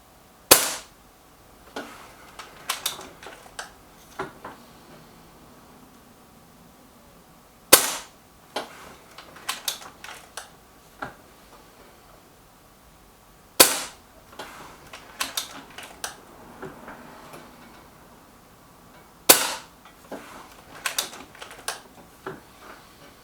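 A Benjamin Akela air rifle with a spring-loaded magazine fires pellets at bullseye targets. Four sharp, loud cracks come roughly six seconds apart, each followed by lighter clicks and ticks from handling and reloading, with no talking.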